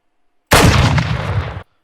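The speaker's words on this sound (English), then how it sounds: "So we already have the gunshots in." A sniper gunshot sound effect fires once, loud and close, a sudden blast that rings for about a second and then cuts off cleanly.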